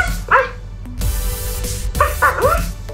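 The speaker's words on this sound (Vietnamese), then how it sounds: "À, bấm cái là nó sủa hả?" A battery-powered toy dog from the Present Pets line barks electronically after its button is pressed, giving several sharp, close yips in a row indoors.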